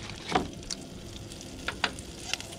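Butter sizzles softly in a pan as fish is cooked, a faint steady crackle broken by a few sharp stirring or scraping clicks, with no voices.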